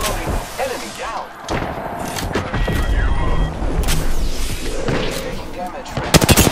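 Gunfire in Apex Legends comes in loud, close bursts and thumps, with heavy impacts near the start and a rapid volley at the end, mixed with game sounds and voice lines.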